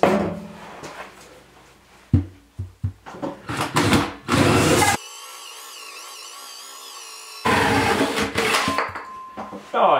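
A power drill bores a hole in wood with a hole saw bit for a root cellar cold air vent, loud grinding bursts broken by handling clatter and a sustained whining run, then more cutting.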